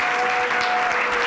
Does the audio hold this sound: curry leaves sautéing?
no